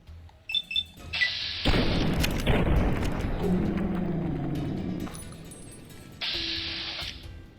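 Gunfire in Fallout: New Vegas: a few sharp shots followed by a heavy, booming blast that rolls on for several seconds, ending in another burst, with no talk.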